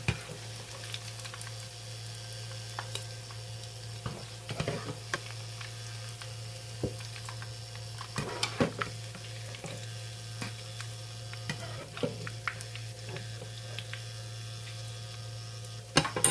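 Batter-coated dandelion flowers deep-frying in hot oil produce a continuous bubbling sizzle with scattered sharp pops, all over a steady low electrical hum.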